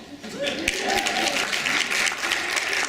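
Audience applause at a stand-up comedy show, a steady patter of clapping that builds and holds throughout, with a voice talking over it.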